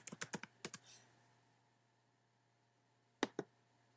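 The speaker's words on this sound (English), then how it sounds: "and then typing in our link" Keystrokes on a computer keyboard while entering a web link in a page editor: a quick burst of about eight clicks, a pause of two seconds, then two more keystrokes, close and fairly quiet over a low steady hum.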